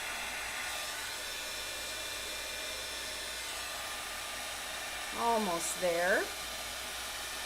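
A heat tool blows a steady, whirring stream of air while heating a light-up patriotic card, running continuously at close range; a voice speaks briefly near the end.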